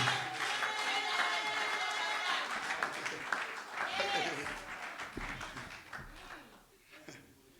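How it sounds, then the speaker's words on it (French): Congregation at a church service applauding and cheering, a dense wash of clapping and crowd noise that swells and then gradually thins out toward the end. "Acclamons pour la gloire de Dieu."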